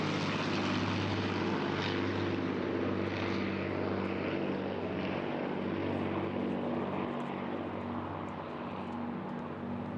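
Battle of Britain Memorial Flight Lancaster bomber flying past at an airshow in Eastbourne, its four piston engines giving a loud, steady propeller drone with a throbbing low hum that holds throughout without any talk.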